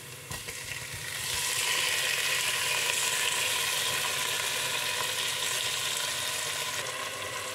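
Garlic, onions and tomatoes frying in a pan for stuffed cabbage in tomato sauce; after a brief quieter start a loud, dense sizzle swells and holds steady to the end, with no talking.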